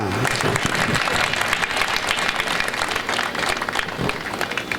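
An audience at a talk on diabetes and home remedies claps continuously in a full, even round of applause that carries at a steady level throughout.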